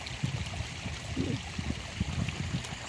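A small backyard waterfall splashes and trickles steadily, a soft, close, continuous flow with faint gurgling bursts where a dog lies in the water.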